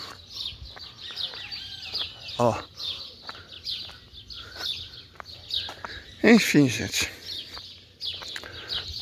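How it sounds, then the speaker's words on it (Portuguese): Birds sing at dawn near a hillside neighborhood, bright chirps and short calls scattered through the scene at moderate distance, with a brief louder burst of clucking-like calls and a few spoken words in between. "Eu gosto de amanhecer com o canto dos pássaros"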